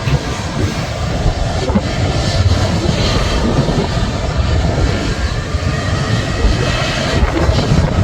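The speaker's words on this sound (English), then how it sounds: "A321 with the balaclava front end, I absolutely love that" An Airbus A321 jet airliner roars steadily nearby at Manchester Airport, a loud continuous rumble of engines with a broad rushing hiss.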